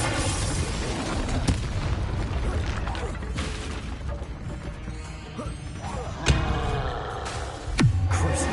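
Fiery spell blasts from the Confringo curse in Hogwarts Legacy, a few sharp booming bursts with crackling tails over a steady rumble of combat effects and game sound.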